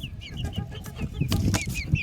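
Farm chickens cluck busily close by as feed is scattered, short repeated clucks and squawks overlapping, with scratching and pecking noises beneath and no voices.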